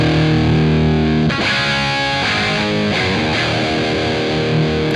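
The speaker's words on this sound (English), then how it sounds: "The Les Paul just has a thicker, more bottom end" Thick, heavily distorted Gibson Les Paul electric guitar playing sustained power chords with a deep low end, loud and close, with a brief break and chord changes, no voices.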